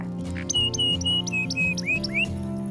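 Birds call back and forth over open countryside fields in rural Indonesia, a string of short, bright chirps and squawks repeating in quick succession, fairly close and clear, with a low steady hum underneath and no talking.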